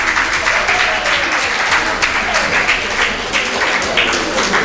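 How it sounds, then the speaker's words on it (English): An audience claps for a mixed boys' and girls' school, King and Queens Academy, at a Nigerian education event: steady, dense applause held at full strength throughout, fairly close, with no pauses. "please put your hands together for them"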